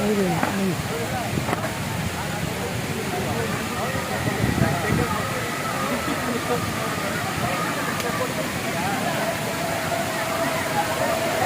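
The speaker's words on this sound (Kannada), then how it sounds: "ಓ, ಅಂದರೆ ಒಂದು ಚಿಕ್ಕ ಫಾಲ್ಸ್." Hogenakkal Falls roars with a broad, steady rush of falling water, loud and continuous throughout, with faint voices and brief tones mixed into the background.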